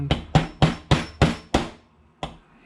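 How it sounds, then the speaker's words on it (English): A hammer drives a pin into a GSG pistol's trigger assembly, landing six sharp, evenly spaced metallic taps followed by one more after a short pause, loud and close with no talk. "hammer it in"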